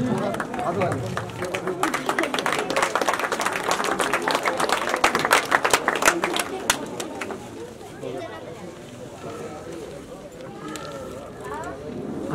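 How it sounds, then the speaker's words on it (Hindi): A village crowd gives loud, dense applause to welcome a young gold and silver medal dragon boat racer, with someone speaking over the clapping. After the first several seconds the applause thins and fades, and birds coo in the background. "एक बार जोरदार तालियों से बहुत सारा स्वागत पूरे गांव की तरफ से।"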